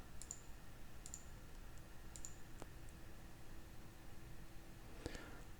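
Several faint, sharp mouse clicks come at irregular intervals over a low hiss as a navigation button is pressed through a tutorial slideshow, with no talking.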